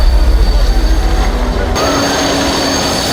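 A loud train rumbles in with a rhythmic low throb, then the sound shifts abruptly to a steady mechanical roar with faint high whining tones.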